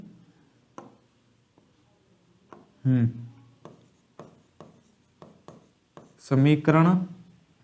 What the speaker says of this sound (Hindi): और मैं यहां पर लिखता हूं